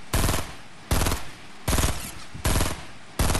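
Bursts of automatic gunfire in the video game Fortnite, loud and close, come in five evenly spaced volleys separated by short pauses.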